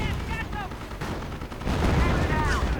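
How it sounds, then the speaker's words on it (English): Bren and Vickers guns fire in a World War II strategy video game, with dense bursts of rattling gunfire and distant blasts overlapping. A voice talks over the combat throughout. "Grenadiers taking heavy fire. Bren, Vickers."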